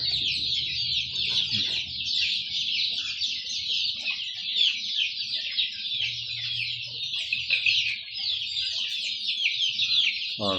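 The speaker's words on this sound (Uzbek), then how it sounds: "Xudo xolasa Andijon qora jo'jalarimiz" A flock of 32-day-old Andijan black chicks peep continuously in high, overlapping chirps while they eat grain, with soft low clucks underneath, heard close and steady.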